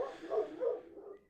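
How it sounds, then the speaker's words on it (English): Dogs bark in the background of a room, with two or three muffled, fairly close bursts that taper off into quiet. "sorry about the dogs barking"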